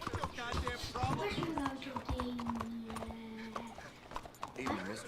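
Horse hooves clip-clop in Red Dead Redemption 2, a steady trotting patter mixed with game voices and a long droning tone, moderately loud throughout.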